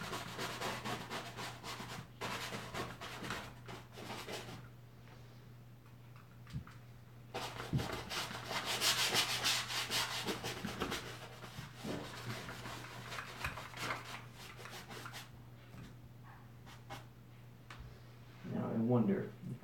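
Paint being scratched into on a painting, soft dry rubbing and scraping strokes that come and go, faint and close, under quiet stretches of speech.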